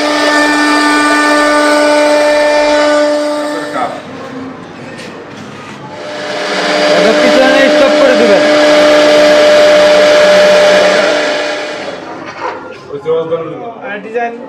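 A woodworking machine planing wood in a furniture workshop at Pakundia market, a loud sustained roar of cutting rising and fading over several seconds, following a steady whining hum, with people talking nearby.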